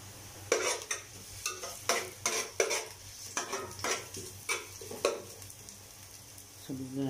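Chicken in a pot being stirred after tamarind sinigang mix is added, a close, rhythmic series of spoon scrapes and knocks against the metal over a low sizzle, fading out near the end.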